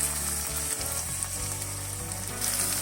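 Loud masala sizzling in a pan with a bubbling hiss as coconut milk is added for prawn malai curry; a low hum runs underneath, no talk.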